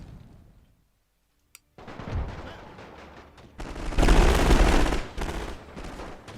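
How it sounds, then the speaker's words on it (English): Bursts of submachine gun fire in a World War I game crackle in dense volleys, louder and more sustained toward the middle, after a brief near-silent gap and a single sharp click. "get that submachine gun fire going"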